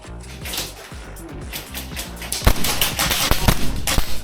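Airsoft guns firing during an outdoor skirmish, sharp snapping shots in quick bursts that build toward the end, with some sharp close cracks mixed in.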